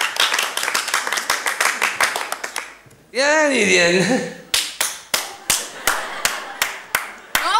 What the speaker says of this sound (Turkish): Ne alkışlıyorsun o zaman?